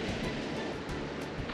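Ocean surf off Hawaii in a cartoon surfing scene, a dense, steady wash of breaking-wave noise with no voices.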